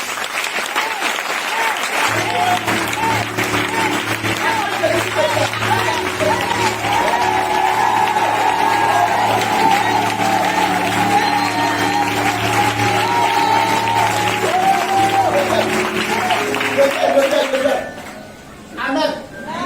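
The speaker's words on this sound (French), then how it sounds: "Acclame Jésus." A congregation at a Christmas Eve vigil service claps and cheers, a loud, dense wall of applause lasting most of the clip under music and amplified voices, then fading near the end.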